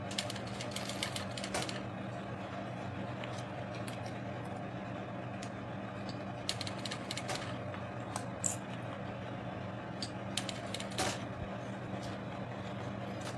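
An industrial sewing machine stitches the seam of a fabric waist bag, its steady mechanical whir running continuously with scattered faint clicks and clatter, fairly quiet and alone with no talk.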